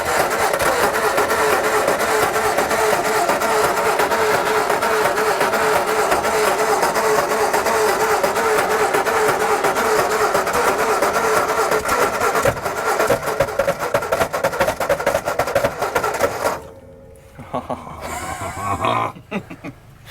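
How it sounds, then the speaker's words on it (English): The starter on a 1960 Ford F-350 cranks the engine in a long, loud, rough, rapidly pulsing run, then cuts off abruptly, leaving quieter mechanical noise and brief sounds. "Something's wrong with that starter. It is not making a good noise."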